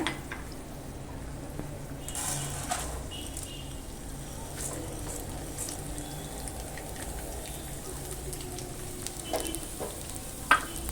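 Rice is stir-fried in a pan after cashews for coconut rice, a continuous soft sizzle with scattered spoon clicks and scraping, close and steady throughout.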